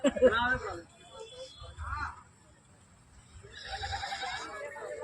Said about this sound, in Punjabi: ਬੱਬੂ ਛੱਤਿਆਂ ਨੇ ਵੇਚੀ ਆ ਬੱਕਰੀ ਕਾਲੀ ਬੱਕਰੀ